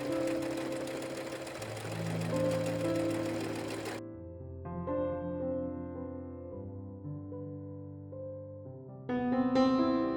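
A sewing machine hums steadily as it understitches the pocket seam on a gingham pinafore, running under quiet background music at a moderate level.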